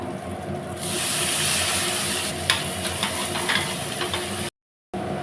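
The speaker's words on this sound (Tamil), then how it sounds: "தக்காளி ரொம்ப வதங்கணும் அப்படின்ட்டு இல்லைங்க ஜஸ்ட் ஒரு நிமிஷம் மட்டும் நல்லா இந்த இந்த அளவுக்கு வதங்குச்சுன்னா போதுங்க" Chopped tomato sautéing in a pan while making Chettinad chicken fry: steady close sizzle and hiss with a few stirring scrapes, running without talk and cutting briefly to silence near the end.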